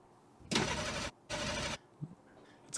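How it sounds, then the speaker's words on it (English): A car engine starting at the opening of an album track: two loud cranking bursts, each about half a second long, then quieter sputters as it catches. "It's a car."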